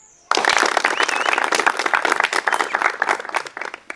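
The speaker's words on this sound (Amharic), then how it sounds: "3 ጊዜ እንድታጨበጭቡ ፈልጋለሁ።" An audience at an Ethiopian b-boy and b-girl dance event bursts into loud, dense applause after a brief silence, the clapping continuing steadily with scattered voices mixed in.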